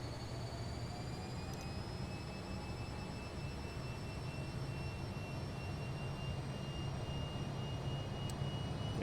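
Jet engines of a Fokker F28 airliner spool up for takeoff, a steady loud roar with rising whining tones heard from the cockpit, held on brakes throughout.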